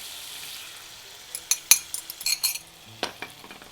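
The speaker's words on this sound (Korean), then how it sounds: "오일하고 페타치즈 넣고 이렇게 한 1분 정도가 되면 이때 풀어놓은 계란을 넣어줍니다" Beaten eggs going into a frying pan with oil, feta and tomatoes, followed by a soft sizzle and a cluster of clinks and scrapes from a utensil against the pan, close and moderately loud.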